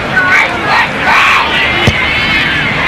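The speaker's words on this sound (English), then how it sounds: "The crowd love it." A rugby league crowd at a Super League match between the Mariners and Cowboys roars and shouts in approval after a conversion kick, a loud, sustained cheer with rising yells and a sharp clap-like spike near the end.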